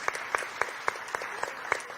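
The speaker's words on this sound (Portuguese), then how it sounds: "Pode aplaudir, gente." A small church congregation at a Saturday service claps sparse, slow and fairly evenly spaced, a few distinct hand claps standing out over a quiet hall.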